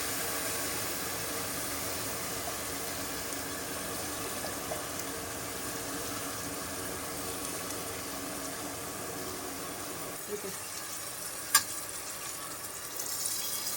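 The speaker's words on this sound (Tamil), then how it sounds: "கொஞ்சம் தண்ணி ஆட் பண்ணிவிட்டு" Steady broadband pouring and rushing water, close and continuous, as water is added to a chicken gravy with ground masala, with a small clink near the end.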